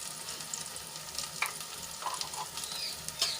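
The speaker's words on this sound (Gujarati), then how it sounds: "બધા મસાલા સરસ રીતે આપણે સાંતળી લઈશું" Red chilli powder, coriander-cumin powder, salt and garam masala sauté in a pan for a brinjal curry, giving a steady close sizzle broken by a few sharp scraping stirs, with no talking.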